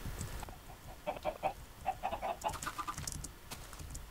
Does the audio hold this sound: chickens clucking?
yes